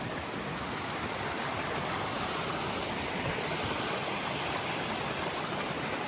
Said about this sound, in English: So this is Eliza Brook I've been following this whole way.